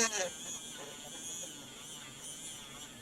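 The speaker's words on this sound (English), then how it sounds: "See how it's kind of bogging down? This isn't the best Dremel tool." A Dremel rotary tool spins a polishing wheel loaded with red rouge on a mech or box mod, a steady high buzzing whine that sags slightly as it bogs down, heard up close with faint speech.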